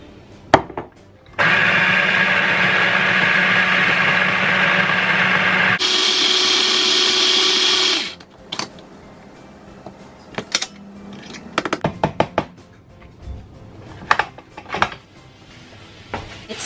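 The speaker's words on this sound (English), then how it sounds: "this is his blender for the vegetables" A small blender chopping cauliflower whirs loudly for several seconds, shifts to a higher-pitched spin, then stops, followed by scattered clinks and knocks of dishes and utensils.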